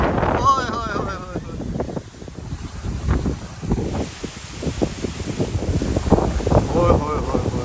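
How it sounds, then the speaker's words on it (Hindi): Strong wind blows outside, buffeting the microphone in uneven low gusts that rise and fall throughout while people talk close by. "बाहर काफ़ी ज़्यादा हवा चल रही है बहुत ज़्यादा।"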